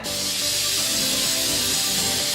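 A continuous, close hiss of aerosol cooking spray being released onto a griddle, steady and loud for the whole moment.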